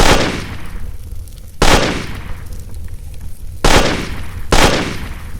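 Battle sound effect of gunfire: loud, close, sharp shots at irregular intervals, each followed by a decaying echo, with a low rumbling backdrop between them.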